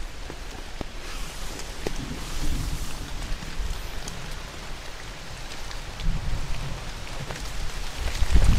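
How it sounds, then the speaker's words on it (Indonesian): Heavy rain driven by strong wind beating on a camping tent, a dense continuous hiss with scattered sharp drop impacts and occasional louder gusts, steady throughout. "Kencang. Hujan angin."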